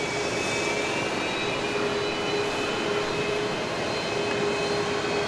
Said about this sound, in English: I think you're looking at Southwest Flight 2403, a MAX 8 off to Orlando.